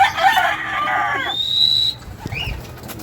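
A gamefowl rooster being trained gives loud, close clucking calls and a brief rising cry, with some rustling or wing movement, and no talk.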